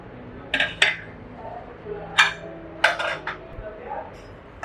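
A pressure cooker of boiled toor dal is opened in a kitchen, a few sharp metallic clinks and clatters of the lid and pot spaced apart, close and moderately quiet, without speech.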